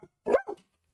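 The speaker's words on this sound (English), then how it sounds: "Stop. No barking." A dog barks twice close by, a sharp loud bark followed by a shorter second one, with silence afterwards and no one talking.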